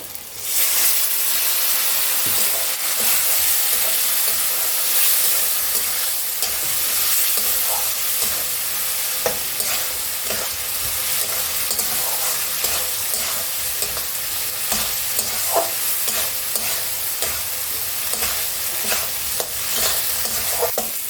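Chilli powder, Kashmiri chilli powder and other spices fry in a pan with a splash of water for muri ghonto with potatoes, giving a loud, steady sizzle and hiss with scraping stirs throughout and no voices.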